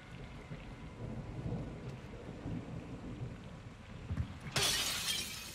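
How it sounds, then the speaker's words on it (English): Heavy rain and thunder in the video game Call of Duty MWII: a low rumbling thunder roll over rain, then a sudden bright crack of thunder near the end. "It's raining fucking hard."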